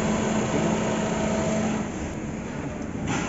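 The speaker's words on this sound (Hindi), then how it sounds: "पहले इसका इंजन साउंड सुन लीजिए।" An MG Hector SUV engine idles with a steady low rumble that eases slightly toward the end, with no talking.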